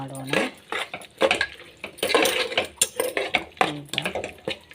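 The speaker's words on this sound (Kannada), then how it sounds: "ಇದಕ್ಕೆ ಸ್ವಲ್ಪ ಅರಿಶಿಣ, ಚೆನ್ನಾಗಿ ಮಿಕ್ಸ್ ಮಾಡೋಣ." A fried tomato bath mixture with turmeric is stirred in a metal pan, with repeated close scrapes and clanks of a spoon in an irregular rhythm.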